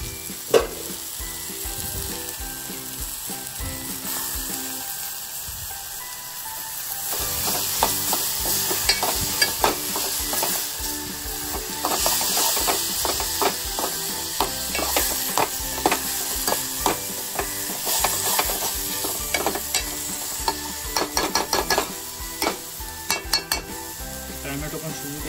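Chopped tomatoes fry in a pan of dal fry on the stove, giving a steady sizzle throughout while a spoon stirs and scrapes the pan in frequent quick strokes, growing busier toward the end.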